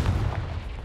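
Confringo fire spell cast in Hogwarts Legacy, a single dense booming blast that fills the short moment with loud low rumble and crackle, with no talking.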